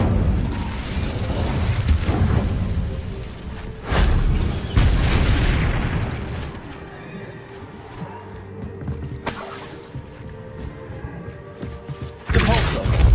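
Incendio fire spell cast repeatedly in Hogwarts Legacy, heard as several loud, booming fiery bursts with crackling tails, spaced a few seconds apart over game ambience and combat noise.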